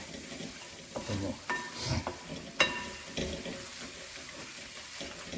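Beef fry cooking in a pan, with a low sizzle under intermittent scraping and clanking stir strokes at moderate distance, fairly quiet overall.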